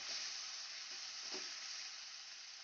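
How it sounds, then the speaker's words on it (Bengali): Shrimp frying lightly in oil, a faint, even hiss of sizzling close by, with one soft stirring scrape partway through and no voices. "হালকা লাল করে ভেজে নেব বেশি ভাজবো না চিংড়ি মাছ বেশি ভাজলে শক্ত হয়ে যায়"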